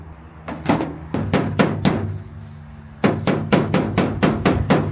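A hammer is let fall repeatedly onto a damaged door, producing sharp rhythmic knocks in two quick bursts of strikes, close and fairly loud, with no talk.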